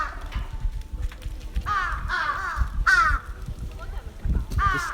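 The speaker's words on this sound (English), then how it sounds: "Just keep it away from the crows." Crows caw loudly and close by, several harsh calls in a row, with a low murmur of people talking underneath.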